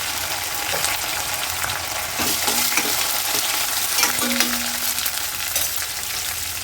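Urad dal, curry leaves and dried red chillies fry in hot oil for an Indian ginger chutney, giving a steady dense sizzle with stirring scrapes, close and continuous throughout, with no voices.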